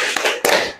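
Hand claps in a classroom 'tepuk biola' clap chant, a few sharp close claps with short gaps, no talk.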